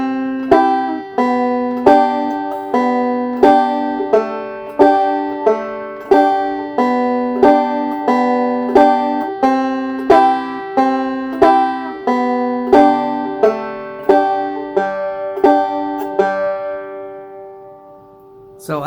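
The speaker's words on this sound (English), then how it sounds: "simply do a pinch after each melody note" Bluegrass banjo picking a slow melody with a two-string pinch after each melody note, crisp plucked notes in a steady repeating pattern, close and clear, ending as the final notes ring out alone.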